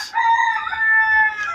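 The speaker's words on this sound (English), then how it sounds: "Rooster crow." A rooster crows once nearby, a single clear, drawn-out call with a rising start and long held tail, loud and alone against a quiet background.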